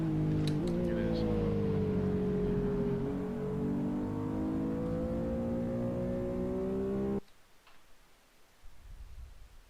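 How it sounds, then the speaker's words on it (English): Car engine in the Shutoko Tokyo street racing video game revving steadily with a rising, sustained drone for about seven seconds, then cutting off abruptly to quiet low rumble; a person talks over it. "Every time I start this car from zero, it just jumps into gear."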